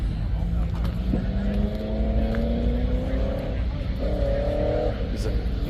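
A twin-turbocharged hot rod engine on a cross-ram intake revs at a car show, rising and falling through two long pulls with a steady rumble underneath, surrounded by crowd chatter and other nearby traffic noise.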